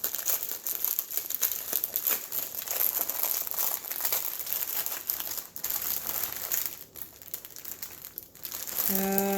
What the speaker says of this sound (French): Alors, je vais ouvrir un paquet et on va regarder ça.